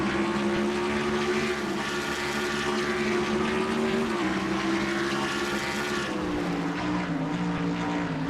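A stock car engine drones loud and steady through a racing video game lap at Sonoma, its pitch holding in first gear, then sagging and shifting lower as the car slows near the end.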